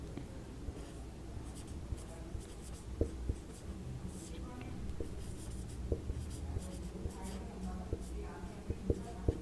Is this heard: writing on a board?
yes